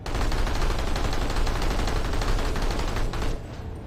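Rapid automatic fire from a Light Assault class weapon in the game Planetside 2, a dense unbroken burst of loud shots lasting about three seconds before cutting off.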